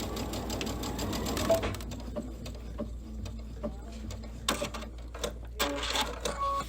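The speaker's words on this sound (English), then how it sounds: "so now I can still sew a straight line by using my foot as a guide" A sewing machine stitches a straight seam in close, rapid mechanical bursts, pausing and restarting with clicks and light handling noises between runs.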